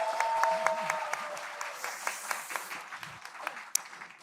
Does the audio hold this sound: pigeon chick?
no